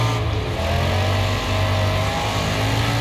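A car engine revs hard in a Wreckfest demolition derby video game, a steady loud mid-pitched drone that throbs unevenly for a few seconds, close and alone.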